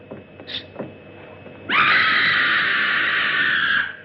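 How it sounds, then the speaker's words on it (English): A woman lets out one long, loud, piercing scream lasting about two seconds. Faint sounds come before it in a dramatic scene from a 1960 horror film. "That was a scream."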